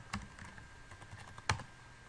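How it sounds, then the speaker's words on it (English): Quiet keystrokes on a computer keyboard while entering a password at a Linux terminal, a handful of soft scattered clicks with two sharper taps, heard alone in a hushed room. "and typing the password"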